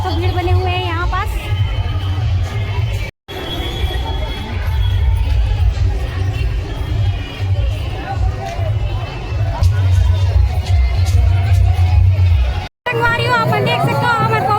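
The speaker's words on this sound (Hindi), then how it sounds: "भक्तजन एकदम ही ज़्यादा शोर शोर के साथ यहाँ पे देख सकते हो भीड़ बने हुए हैं" A dense, noisy crowd of devotees gathers at a Kabir Jayanti kalash procession in Kawardha near the PG College, a loud, steady hubbub of many overlapping voices with two brief dropouts.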